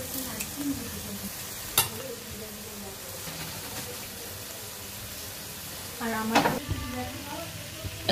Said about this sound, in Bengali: ধনিয়া পাতা দিয়ে দিব। ভালো করে ভাজা ভাজা করে নামিয়ে নিব।